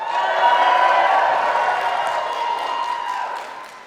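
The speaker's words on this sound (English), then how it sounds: "Guests of graduating students, can you help us be the loudest crowd of the week?" Graduation ceremony guests cheer and applaud as one loud, sustained crowd roar with clapping and whoops, holding steady for several seconds before easing slightly at the end.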